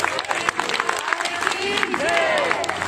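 Audience clapping at a religious gathering, scattered claps fairly quiet and mixed with crowd murmur and voices.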